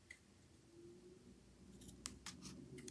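Scissors snip through planner sticker sheets at a desk: a few crisp, close cuts near the end, with faint rustling of paper before them and no voices.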